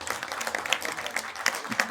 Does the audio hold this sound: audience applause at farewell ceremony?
yes